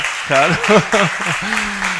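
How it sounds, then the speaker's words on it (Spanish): Audience applause at a talk on AI and SEO sits beneath a speaking voice, a steady wash of clapping that runs through the whole moment. "Un aplauso para ella, por favor."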